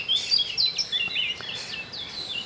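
Black-crowned night heron calling along a wild river, a series of short sharp chirping notes repeated close by over a quiet background.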